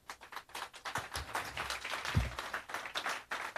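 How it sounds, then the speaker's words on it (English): Conference audience applauding a panel of speakers: a steady, fairly quiet patter of many hands clapping that carries on at an even level with no talk over it. "I would like us to applaud our very able panelists"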